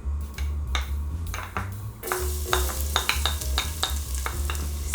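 Minced garlic frying in about two tablespoons of oil for Filipino chicken sopas, with a close, crackling sizzle and repeated scraping strokes of a stirring utensil against the pan.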